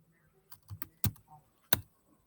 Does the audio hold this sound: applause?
no